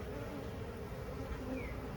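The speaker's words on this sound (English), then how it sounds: "some of these bees have got real fuzzy yet. So they're younger bees." Honeybees buzz around an open hive while a queen castle with grafted queen cells is set in, a steady close drone with no talk.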